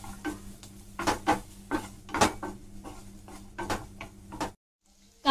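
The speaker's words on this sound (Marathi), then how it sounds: "पाच ते 6 लसूण पाकळ्या घालते आणि हे छान हलवून घेऊया." Garlic cloves and onion are stirred in a pan with a spoon. Clinks and scrapes come in uneven bursts against a low background hum, then stop abruptly near the end.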